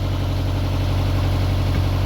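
A canal narrowboat's engine idles in a steady, loud low-pitched thrum with even vibration, constant and unbroken, with no one speaking.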